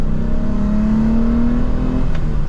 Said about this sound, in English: Let's do a little second gear here and go.